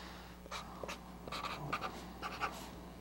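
A marker writing across a book's pages, several short squeaky strokes in quick bursts, close and clear against a faint steady hum.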